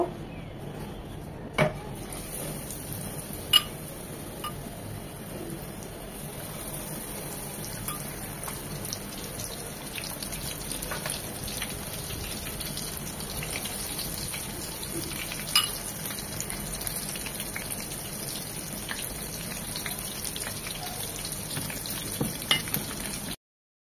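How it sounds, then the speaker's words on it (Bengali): Shrimp deep-frying in hot oil, a continuous low sizzle and bubbling hiss that runs steadily throughout with a few faint clicks of utensils, fairly quiet and with no talking. "একইভাবে বাকি চিংড়িগুলো ফ্রাই করে নেব।"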